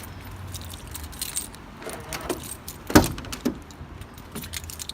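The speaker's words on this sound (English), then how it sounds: "So I'll open my van up." Someone opening a van: keys jangle and rattle for several seconds, then a sharp clunk of the lock or door partway through, close and fairly loud.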